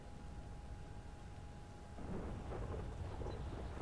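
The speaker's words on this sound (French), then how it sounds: "Oh la pluie, la pluie" Steady rain hisses in the GTA game world, and about halfway through a low rumble of thunder swells beneath it, with the whole scene sounding faint.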